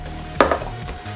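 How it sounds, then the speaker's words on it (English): A knife slicing through a McDonald's bacon burger, a short crunchy cut with a quick second scrape against a hard surface, close and brief over a faint hum. "let's cut her in half and give a side section"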